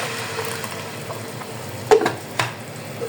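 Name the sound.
garlic ginger paste frying with onions in a pan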